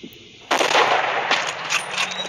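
A single loud rifle report from the mobile game Hunting Sniper, a sharp blast followed by a sustained rumbling echo after a quiet lead-in.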